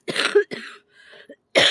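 A person outdoors coughs in a few harsh close bursts, with a short gap between them and a last cough at the end. Everything is loud and near, and no one speaks.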